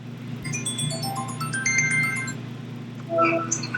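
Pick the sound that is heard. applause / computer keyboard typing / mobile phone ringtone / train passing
mobile phone ringtone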